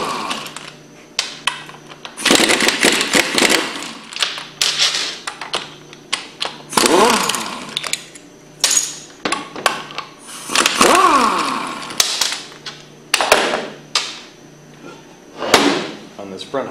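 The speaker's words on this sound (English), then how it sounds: "We'll start by removing the front housing with a 9/16 socket." A socket wrench works on the front housing of a Hypro centrifugal pump, with loud irregular metallic ratcheting, clanks and scraping bursts spread over the span, close by, while a voice talks at times.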